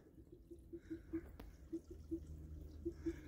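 Water leaks from the bottom timing case of an Iveco Daily camper van engine, dripping faintly in a loose, irregular patter over a low background rumble.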